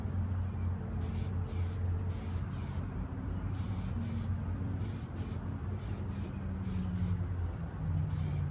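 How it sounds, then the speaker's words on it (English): Final clear coat sprayed in a hydrographics lab, a series of short hissing spray bursts of about half a second each in an irregular rhythm, close over a low steady hum, no talk. "let's go ahead and put on our final coat of clear coat"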